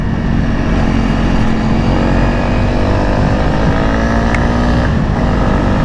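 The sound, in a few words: Honda CRF 300 motorcycle engine while riding uphill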